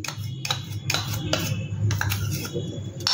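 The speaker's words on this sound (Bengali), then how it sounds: "এই চিনি পাউডারটা যেটা, এটা আমি পুরোটাই এর মধ্যে দিয়ে দিচ্ছি" A spoon scrapes and clinks against a bowl as powdered sugar is tipped into a mango mixture, with several sharp metallic taps spread through a low steady hum, close and fairly quiet.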